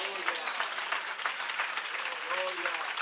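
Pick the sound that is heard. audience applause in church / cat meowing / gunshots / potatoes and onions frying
audience applause in church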